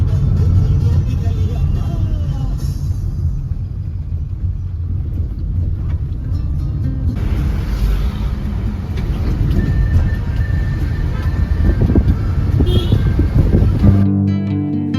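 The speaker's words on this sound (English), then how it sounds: "This taxi ride to the ashram was quite literally the most wild ride I had ever been on in my life." A taxi drives along a road in India toward an ashram, its steady engine and road rumble continuous and close, with wind buffeting and faint traffic and horn tones, under occasional voices.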